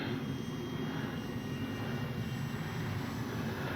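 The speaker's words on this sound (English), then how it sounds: "This is a great low wing plane too." A Kavan Bristell B23 low-wing model airplane's engine drones steadily at a moderate distance, a continuous buzzing hum with no pauses.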